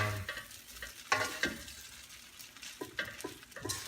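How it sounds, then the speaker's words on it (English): Cooked vegetables tossed into pancit bihon guisado rice noodles in a pan, with intermittent close scraping and clattering strokes over a soft sizzle, fairly quiet overall. "we'll mix the vegetables now"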